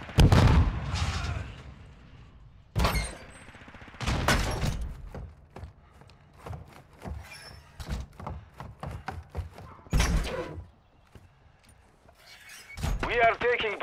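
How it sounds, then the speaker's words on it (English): A grenade blast in Call of Duty: Modern Warfare II multiplayer, a heavy boom among scattered gunfire bursts and impacts, with game announcer voices over the fight. "Throwing grenade."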